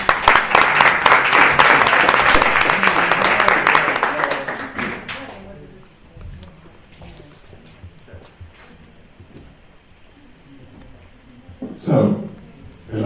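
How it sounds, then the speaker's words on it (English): Warm applause from an audience at a hackathon presentation session, loud and dense for about five seconds, then fading to quiet room noise with a brief burst near the end. "And they also deserve a very warm applause."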